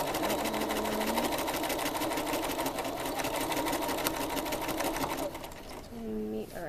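A sewing machine doing free-motion quilting runs steadily with a fast, even stitching rattle for most of the stretch, then slows and stops near the end as a person begins speaking.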